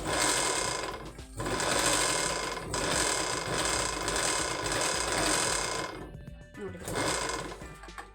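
Electric sewing machine with a motor controller running unthreaded, its needle punching through cloth, a loud close rattling mechanical chatter in long bursts with brief pauses between runs.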